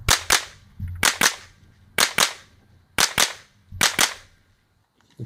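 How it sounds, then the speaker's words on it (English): Minirifle gunshots at a practical shooting competition, fired past a sight barrier in pairs: five loud, sharp double shots in a steady rhythm, each pair followed by a brief pause. "They've got to shoot underneath that barrier."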